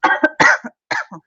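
Several close, loud coughs come in a quick fit. The first pair is followed by a heavier burst and a short trailing pair.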